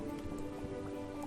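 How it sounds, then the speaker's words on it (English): Steady rain patters throughout the short stretch in the Starbound video game, a soft, even wash of drops that stays at a constant moderate level with no voices. "So you can see it's raining right now."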